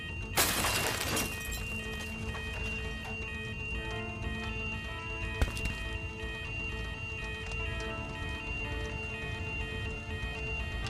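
In a fire safety VR training game, glass doors are smashed with an emergency glass hammer: one loud, bright shatter near the start, then a sharp tick midway over a steady tonal hum.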